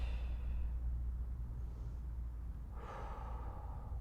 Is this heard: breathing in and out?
yes